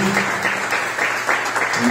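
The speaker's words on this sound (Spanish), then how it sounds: "Le demos un fuerte aplauso" Audience at a teachers' swearing-in ceremony in Belén de Bajirá clapping steadily, a dense continuous patter of applause from a crowd, fairly loud throughout.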